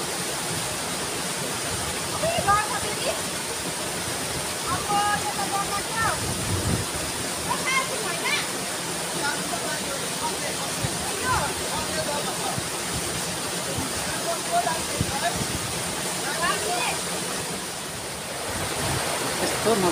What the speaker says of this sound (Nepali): यहाँ चाहिँ एकदमै रमाइलो झर्नाहरू छ है।